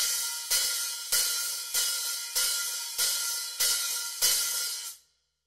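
A drum hi-hat is played in eighth notes with an accent, producing about eight crisp, dry, evenly spaced strokes up close. The last stroke is cut off into silence.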